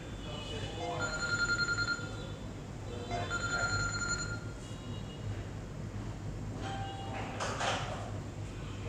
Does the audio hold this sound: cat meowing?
no